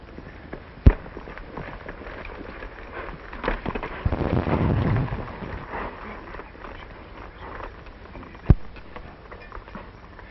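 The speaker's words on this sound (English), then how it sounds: "the gun should go bang." Two sharp, loud gunshots from a period Western film, one near the start and one near the end, with scuffling movement and noise between them.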